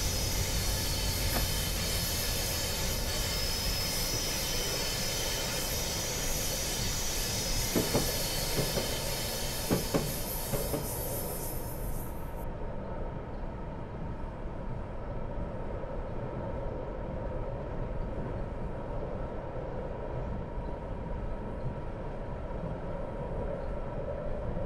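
An F59PH diesel locomotive in a train simulator game, LA commuter service, running with a steady loud engine drone and rail noise; the upper hiss cuts off about halfway and the low rumble continues alone.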